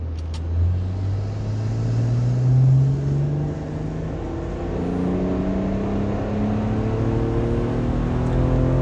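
An Audi SQ5 with the 3.0T engine revs on a dyno in hot weather, a loud steady drone whose pitch climbs smoothly through the gears, with a brief surge early on, and no talk over it.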